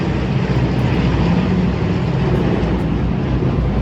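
Propeller airplane flying overhead, heard as a steady, loud broadband engine roar that holds evenly across the whole stretch with no voices.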